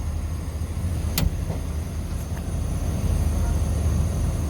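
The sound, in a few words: car AC expansion valve noise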